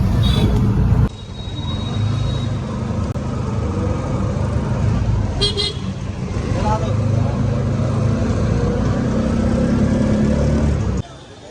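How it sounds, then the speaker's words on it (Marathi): Inside an auto rickshaw riding to the station through traffic, a steady low engine rumble and road noise run throughout, with a brief horn-like tone midway and a voice talking at times. "आता चाललोय स्टेशनला, रिक्षाने ऑटोने चाललोय"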